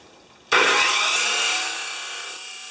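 A power saw starts abruptly and cuts a 45-degree angle through 1-inch stock for a small welded wagon, a loud, sustained harsh grinding whine that eases slightly toward the end.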